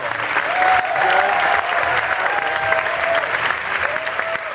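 Sustained audience applause for a performer at a 2000 music festival, steady and dense for the whole stretch with a few faint voices rising through the clapping.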